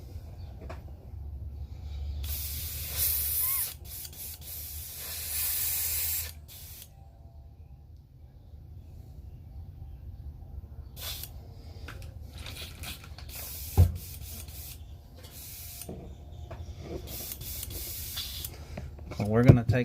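Bursts of aerosol spray paint hiss in short and longer blasts while painting a black crappie fishing lure pattern, separated by quieter gaps with faint handling clicks and a sharp tap.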